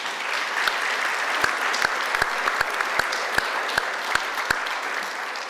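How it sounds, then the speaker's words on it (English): Audience applause at a civil rights anniversary event, sustained crowd clapping with sharp individual claps standing out in an irregular rhythm, close and steady for the whole stretch. "Round of applause for Beverly."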